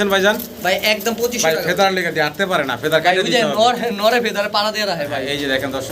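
Black Pomeranian pouter pigeons, a male and female in breeding mode, cooing in repeated throaty bursts close by while someone talks over them.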